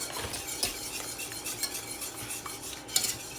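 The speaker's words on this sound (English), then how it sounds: "I'm adding in some turmeric, and I'm whisking again." A whisk swishes and taps softly against a bowl while vegan banana pudding with turmeric is mixed, producing quiet, continuous stirring with occasional light clinks.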